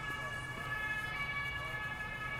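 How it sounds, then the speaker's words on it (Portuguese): A siren wails steadily in the distance near Notre-Dame in Paris over low traffic rumble, its wavering tone continuous throughout. "E a sirene tá aí."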